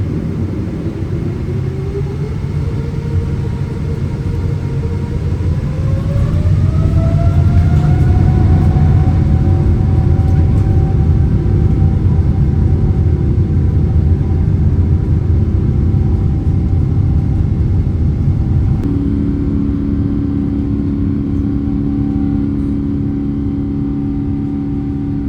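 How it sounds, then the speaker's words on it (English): Twin GE90 jet engines of a Boeing 777 heard from inside the cabin during a night takeoff, a deep steady roar swelling as thrust builds, with a rising whine sweeping upward before settling into a constant drone. "we still get to enjoy the incredible sound of the 2 GE90"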